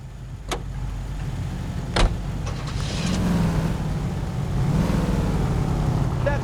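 Car driving in the L.A. Noire video game, a steady engine hum with road rumble, punctuated by a couple of sharp clicks or knocks, with the engine rising gradually toward the end.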